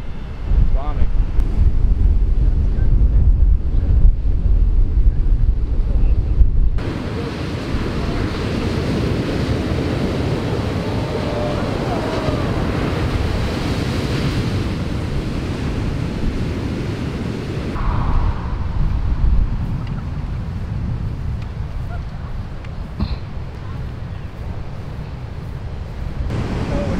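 Heavy hurricane surf pounds a rocky cliff shore in Hawaii, a constant roar of breaking waves mixed with strong wind buffeting the microphone, loud and continuous with a sharp shift partway through.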